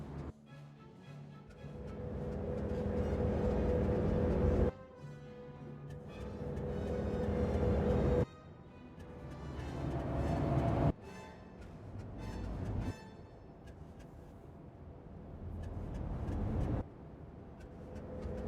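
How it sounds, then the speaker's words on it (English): Warship engines warm up in Ultimate Admiral: Dreadnoughts, a naval strategy game: a loud, steady mechanical drone that swells over several seconds, then drops off abruptly, repeating in about five long cycles. "I don't know if any of you can hear these loading sounds, but it sounds like warming up engines, I guess, on the ships."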